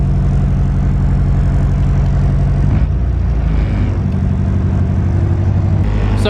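A Nissan 240SX engine idling with the fan running makes a loud, steady, close rumble with a constant hum, and the idle shifts slightly partway through.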